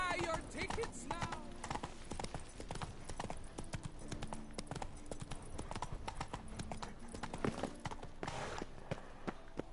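Roach, the horse in the video game Witcher 3, trots along with steady clip-clop hooves close by, with a faint voice now and then.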